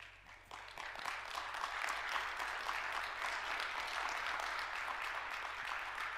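A church congregation breaks into sustained, steady applause that swells and holds for several seconds, a dense wash of many clapping hands filling the room.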